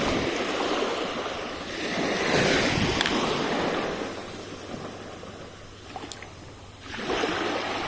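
Sea waves rolling in on a fishing trip, a broad steady wash of surf that swells louder around the middle and again near the end, close and full with no voices.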